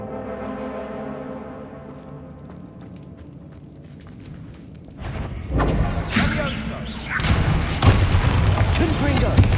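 Confringo fire spells explode in the Hogwarts Legacy video game. Heavy booms and crackling blasts break in loudly after a quieter musical stretch, and game voices can be heard in the mix.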